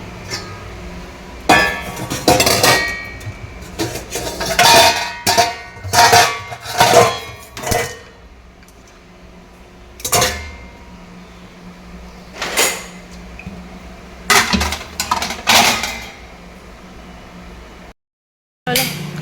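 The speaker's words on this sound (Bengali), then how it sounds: "জায়গার বাসন জায়গায় রেখে দিই" Kitchen utensils and pots are being put back in place, giving irregular close clanks, knocks and clatters of metal and dishes with short pauses between them.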